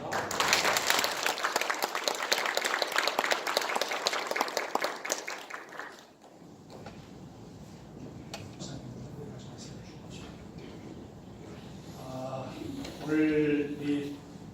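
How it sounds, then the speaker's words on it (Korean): Loud, dense applause from an audience at a church cultural mission agreement ceremony fills the first six seconds, then fades into a quieter room where a voice speaks and a few scattered sounds follow. "박수 한번 해주시기 바랍니다."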